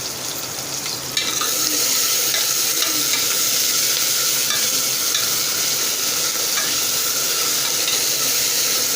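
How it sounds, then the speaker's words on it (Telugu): Ginger paste being stirred into a bottle gourd and potato curry in a hot pan, giving a loud continuous sizzle and hiss with spoon scraping, close and steady, no voices. "ఇప్పుడు అల్లం పేస్ట్ 2 స్పూన్స్ వేసుకుంటున్నాను. వేసి మంచిగా కలపండి ఒకసారి."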